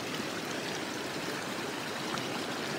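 Steady rushing flow of a river at a Pacific Crest Trail crossing near Kings River, close and loud, a continuous broadband wash with no voices.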